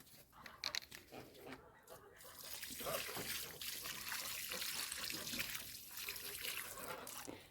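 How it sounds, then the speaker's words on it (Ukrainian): Water poured steadily from a can or hose onto freshly planted boxwood cuttings in soil, a soft continuous splashing and trickling after a few brief handling noises. "Так, проливаємо водичкою."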